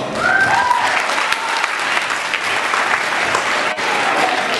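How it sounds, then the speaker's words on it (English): A school assembly audience claps steadily and loudly for students at an anti-bullying program, sustained dense applause with a faint voice briefly near the start. "Give these guys a round of applause."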